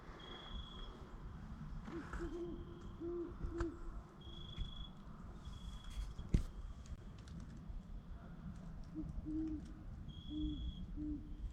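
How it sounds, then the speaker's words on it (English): An owl hoots repeatedly in the distance by a graveyard, short low calls spaced a few seconds apart, over a steady outdoor hiss with insects and a sharp click. "See if y'all can hear that owl."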